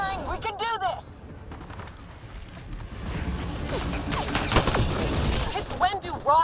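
Sustained alien-weapon gunfire in a Mass Effect Andromeda firefight, rapid shots and mechanical clatter building in the second half, mixed with shouting voices.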